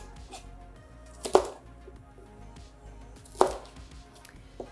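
A knife chops asparagus into short pieces on a board, two sharp distinct cuts about two seconds apart with quieter knocks between, close and clear with no talking.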